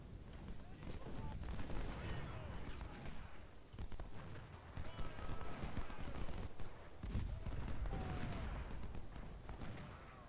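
Dense, continuous crackle of musket volleys and booming artillery from an American Civil War video game battle at Corinth, loud and unbroken throughout, with a voice talking over it.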